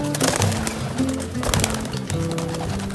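Roller pigeons coo repeatedly at close range in a backyard loft setting, soft throaty calls layered over continuous rustling and wing movement, without speech.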